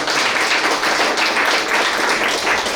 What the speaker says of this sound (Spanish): Démosle un aplauso al Señor por eso, hermanos.